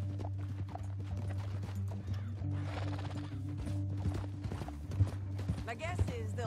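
Horse hooves clip-clop steadily in Red Dead Redemption 2, with a brief whinny among them, over a low game hum while characters talk.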